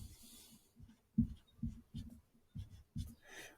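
Pen strokes on paper while writing out numbers during a fractions math lesson, several short scratchy bursts in an irregular rhythm, close and fairly quiet, no talking.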